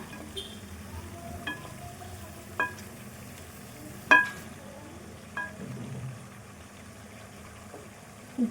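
Fish pieces fry in a pan for a fish curry, a steady low sizzle and bubbling with a few sharp clicks and pops from stirring or spattering, fairly quiet throughout.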